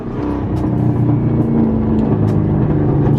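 A car accelerating hard in second gear, its engine note loud and steady throughout, with no talking.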